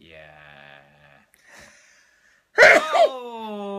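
A sharp, loud sneeze bursts out after some quiet talk, followed by a short vocal exhale.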